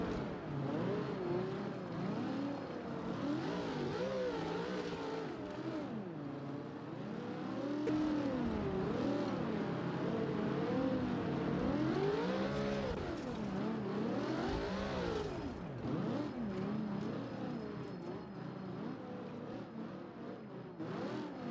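Off-road 4x4 race car in a sim racing game on a custom course, engine revving hard and continuously with rising and falling pitch as wheels spin, loud and steady throughout with no talk.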